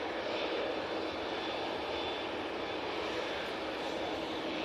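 A TUI airliner at Manchester Airport, a broad, steady jet engine roar holding at constant loudness throughout, heard from a spotting position without talk.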